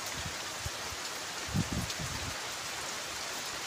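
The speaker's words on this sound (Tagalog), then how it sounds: "May ulan na." Steady rain falls outdoors in a continuous even hiss, with a brief cluster of heavier drops or thuds in the middle and no one speaking.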